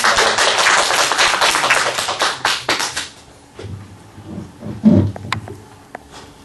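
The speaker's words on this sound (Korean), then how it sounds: "우리 박수로 환영하겠습니다" Church congregation clapping in welcome as a woman comes forward to give her testimony, a burst of many hands for about three seconds that trails off into scattered claps and room noise.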